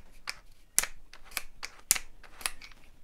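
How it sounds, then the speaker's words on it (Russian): A drill chuck being tightened gives a series of about eight sharp, crisp clicks at a fairly even pace, close by in a quiet room. "Слышите характерные щелчки."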